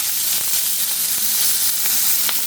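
Loud, steady sizzling and crackling of a burger patty frying in a hot pan, with occasional sharper pops over a constant hiss.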